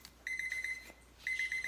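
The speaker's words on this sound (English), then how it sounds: "I have timers going off." Electronic kitchen timers beep in two bursts of rapid, evenly spaced high chirps separated by a short pause, loud and close in an otherwise quiet kitchen.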